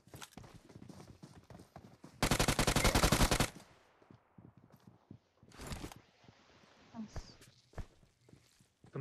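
Gunfire from a shooting range in PUBG Mobile: a dense, rapid burst of automatic fire dominates, a shorter burst follows, and faint scattered shots and footsteps sit between them under quiet voices.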